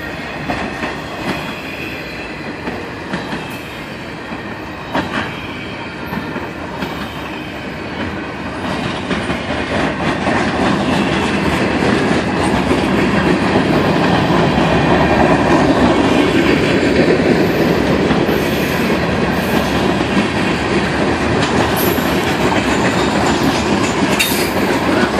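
A Norfolk Southern freight train with GP40-2 slug sets rolls past in Charlottesville, a loud sustained rumble with rhythmic clickety-clack of wheels on rails that builds and stays heavy.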